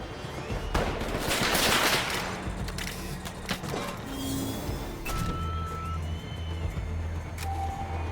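Gunfire in the video game Combat Champions, dense bursts and rapid shots layered over a steady engine-like rumble and background game sounds, with a loud cluster near the start and continuing fire throughout.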